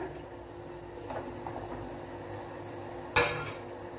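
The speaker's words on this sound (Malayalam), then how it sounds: "ഈ മത്തങ്ങ ഒന്ന് വേവിച്ചെടുക്കണം. അതുകൊണ്ട് ഇതിലേക്കൊന്ന് തട്ടിക്കൊടുക്കാം." Cut pumpkin pieces are tipped into a cooking pot, landing as one sudden, sharp clatter near the end after a quiet stretch of faint kitchen handling noise.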